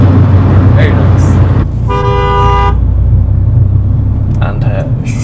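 Car horn of a 2020 Toyota GR Yaris Morizo Selection, honked in one sustained blast of under a second, then briefly tapped again later, over steady engine and road rumble inside the cabin.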